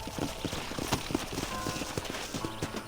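Horses' hooves clip-clop in a steady, uneven rhythm on hard ground in the Red Dead Redemption video game, several animals moving close by at a walk, fairly loud over low background ambience.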